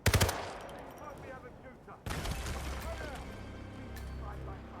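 Gunfire in the video game Hitman 3 comes as a sharp automatic burst at the start, then a second loud volley that trails into a rattling echo and a lingering hum.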